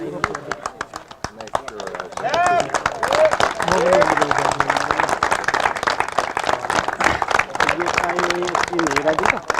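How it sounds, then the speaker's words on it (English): Sparse clapping swells into steady applause from a crowd at a cricket league closing ceremony, with people talking and shouting over it throughout. "but still give him a big round of applause"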